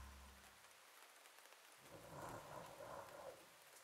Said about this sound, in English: the rain is nice. I hear that.